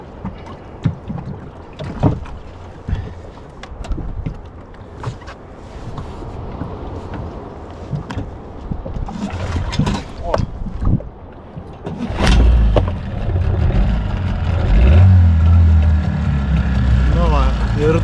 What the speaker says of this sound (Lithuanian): Variklio užkūrimas vyksta pakankamai neblogai.